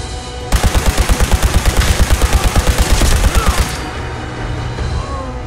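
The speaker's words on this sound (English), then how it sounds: "Showered with laser fire." A rapid, loud burst of about twenty evenly spaced laser gunshots fires in the Fallout 4 game, running for around three seconds before a fainter, lingering tail of background noise.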